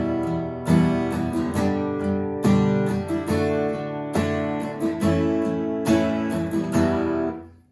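Acoustic guitar strums through a chord progression, steady rhythmic strokes with brief pauses between changes, close and full, ending on a fading chord.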